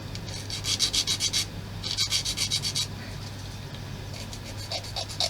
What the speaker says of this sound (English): Just do a bit of filing or sanding.